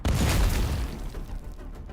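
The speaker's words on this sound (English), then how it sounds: "The explosion went off" Explosion from a fiber-optic drone attack on a bunker entrance: a single heavy boom with a deep low rumble that swells quickly, then decays into a fading roar.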